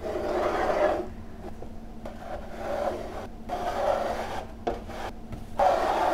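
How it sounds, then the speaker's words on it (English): A bench scraper is drawn smoothly around buttercream on the side of a cake, giving soft repeated scraping and rubbing strokes, close and fairly quiet, with brief pauses between passes. "we're just gonna keep this right flat against the side here. We're going to very carefully smooth away the excess buttercream"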